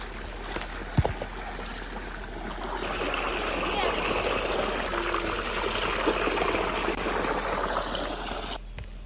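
A flowing stream on a trip outing with feet being dipped into the water, a steady soft trickling wash with a brief knock near the start, faint and continuous.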